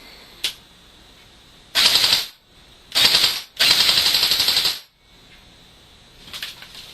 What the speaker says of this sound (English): I'm going to shoot this towel